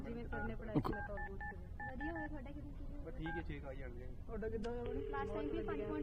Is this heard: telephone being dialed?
yes